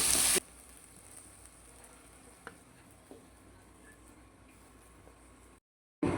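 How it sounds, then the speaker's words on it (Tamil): Onion and capsicum sautéing in a kadai for capsicum gravy give off a steady, faint sizzle with a few light stirring ticks. There is no talking, and the sound drops out briefly near the end. "ரெண்டையும் ஒன்று போல் வதக்கி எடுத்துக்கலாம்"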